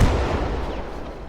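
A cannon fires in a World War II video game battle, one heavy boom followed by a rumbling decay, loud and close with no talk.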